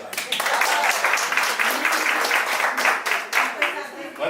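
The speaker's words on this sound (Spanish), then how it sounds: "Un aplauso para la compañera." A classroom of students applauds a classmate, with a dense patter of clapping from many hands that rises and falls, plus scattered voices mixed in near the end.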